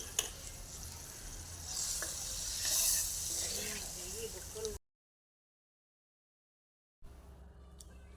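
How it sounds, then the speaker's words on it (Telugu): Tamarind juice hisses and sizzles as it hits a hot eggplant curry base in a pan, with stirring scrapes over the steady frying noise before the sound cuts out, then faint kitchen sounds return. "ఇవి వేగిన తర్వాత ముందుగా నానబెట్టుకున్న చింతపండు రసం పోసుకొని ఒకసారి కలుపుకోవాలి."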